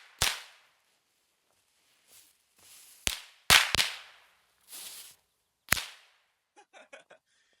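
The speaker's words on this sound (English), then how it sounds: "we're going to start out with a small strip of these smaller alien star bombs" A small strip of alien star bomb firecrackers sets off a series of sharp, loud pops with brief fizzing flares between them, ending in a few faint crackles.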